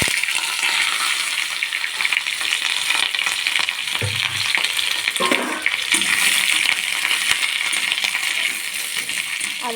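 Potatoes tipped into hot mustard oil seasoned with black cumin seeds and a dried red chilli sizzle steadily in a pan, a broad continuous frying hiss with a few clinks and stirring scrapes near the middle, with no talk.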